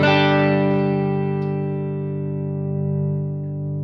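A single sustained electric guitar chord through a MenditTone tube overdrive pedal rings out with thick overdriven grit, decaying slowly and heard on its own with no talking.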